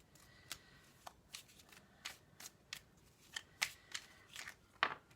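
Tarot cards are shuffled close by: soft, repeated riffling and slapping strokes in an irregular rhythm, quiet and heard alone.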